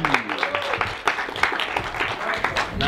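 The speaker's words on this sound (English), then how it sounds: "So let's give him a round of applause" Audience applause for a guest at an informal gathering in Santa Fe, a steady patter of claps from a modest crowd lasting a few seconds, with voices mixed in.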